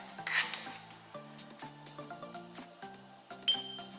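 A spoon scrapes and clinks against a bowl while thick Greek yogurt is scooped in, with soft rubbing, wet scraping and light taps close by, no talking.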